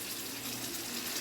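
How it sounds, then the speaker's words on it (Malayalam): Vinegar poured from a container into lemon pickle, a steady soft liquid trickle and splash running continuously throughout, fairly quiet and close, with no talk. "ഇതിലേക്ക് നമുക്ക് കുറച്ച് വിനാഗിരി ഒഴിക്കാം."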